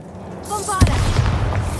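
A Bombarda spell explosion in Hogwarts Legacy: after a brief burst of speech, a single sharp boom hits, then a rumbling tail fades out.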